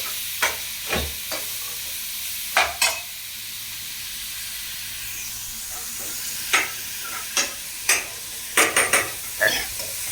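Ginger and garlic frying in a pan for tamarind curry, a soft steady sizzle broken by sharp spoon scrapes and clinks against the metal, clustered near the end, close by with no talk.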